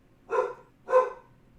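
Two sharp dog barks ring out about half a second apart, fairly close and loud, against a quiet background with no talk.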